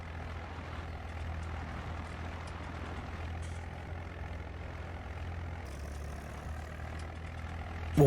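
A tractor engine idles steadily and close by, a low continuous rumble that holds level for several seconds before a brief louder knock near the end, with no talking over it.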